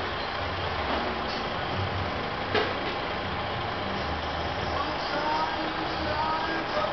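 A truck engine idles steadily with a low, continuous rumble, moderately close, while voices talk over it throughout.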